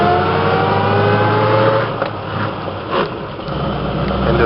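A 1927 Packard 443 Club Coupe pulls away after a downshift into second, its engine note rising and falling in steady surges with a dip as the revs settle, heard close and fairly loud.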